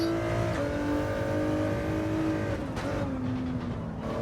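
Race car engine in Gran Turismo 7, the Group 4 GT car, drones steadily at high revs with layered harmonic tones, then dips and shifts pitch as it backs off into a corner, loud and continuous with no talk.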